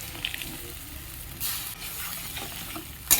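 Ginger, garlic, onion paste and ground masala mixed with water fry in a kadai for a simple egg curry, a close sizzle broken by scraping stirs, with a sharp clatter near the end.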